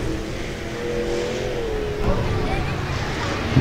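Stock cars roar past at a speedway during a heat race, a steady loud engine drone that swells as the cars pass, with a race announcer talking over it.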